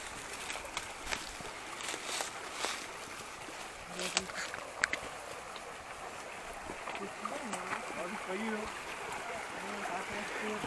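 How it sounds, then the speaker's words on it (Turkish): A small creek runs over stones during a woodland hike near Belgrad village in Çiftlikköy, a steady soft babble of trickling water with scattered footsteps and rustling. "Minik bir dere."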